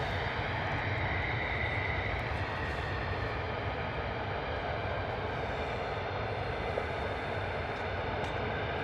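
US Air Force F-35 jets moving at RAF Lakenheath, a dense, steady engine roar with constant broadband rumble and whine across the whole stretch, no talking heard.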